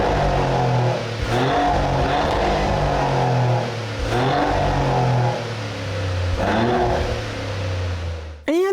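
A 2024 Maserati GranTurismo engine revs hard several times in a row in its hardest suspension and loudest exhaust setting, its loud exhaust rising and falling in waves, with a sharp final blip at the end.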